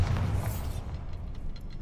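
A spell blast in a video game goes off as one short, muffled boom. A quieter rumbling tail fades out after it.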